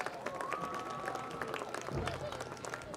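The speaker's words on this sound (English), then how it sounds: "Let's have a round of applause for our 2025 marching band seniors and their families." An outdoor crowd at a high school fall senior night football game claps for the marching band seniors and their families, with a steady, fairly distant patter of applause under a public address voice.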